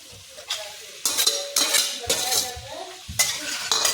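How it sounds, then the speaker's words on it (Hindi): A spoon scrapes and clanks through mixed vegetable sabji with potatoes and fresh coriander in a pan, in several sharp stirring strokes over a soft background sizzle, with no talking. "ये देखिए अब इसको थोड़ा सा चला लेंगे"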